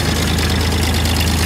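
A diesel golf cart engine with stock exhaust starts and runs nearby with a loud, steady knocking rumble and no pauses. Nobody talks.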